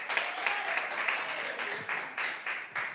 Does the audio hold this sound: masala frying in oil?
no